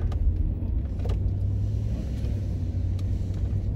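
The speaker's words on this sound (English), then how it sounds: "that car's driving so fast" A car speeds along a residential street in North Birmingham, Alabama, its engine a steady loud low rumble with road noise that holds throughout.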